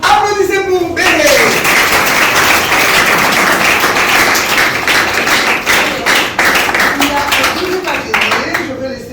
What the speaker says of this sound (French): Applaudissez pour Béré